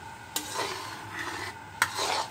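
Salted biko rice cake mixture being stirred in a cooking pot, a steady close scraping swirl with two sharper knocks of the utensil against the pot's side.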